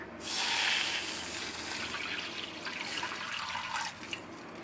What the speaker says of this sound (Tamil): அதே கடாயிலேயே 1/2 கப் அளவு தண்ணி சேர்த்துக்கலாம்